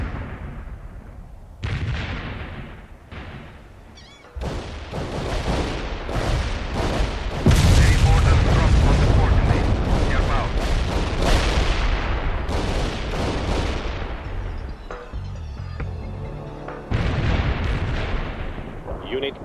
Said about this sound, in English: Fuel air bomb deployed, returning to base, over.